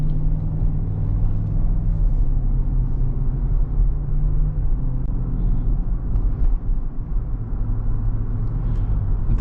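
The V8 engine of a 2022 GMC Yukon SLT accelerating on an on-ramp drones in a low, steady rumble from inside the cabin, holding a constant loud hum without clear pauses.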